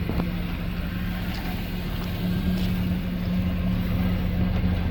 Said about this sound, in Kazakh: мотору жүрүп турат экен